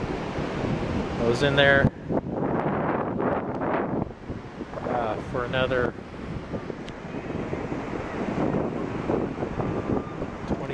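Ocean surf pounding the shore, with a steady roar of breaking waves and wind buffeting the microphone throughout; someone speaks over it.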